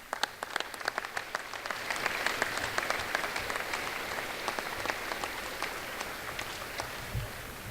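Audience applause at a high school Veterans Day ceremony, honoring military families as they stand; steady, moderately distant clapping from a crowd that swells after a few scattered claps and holds evenly throughout.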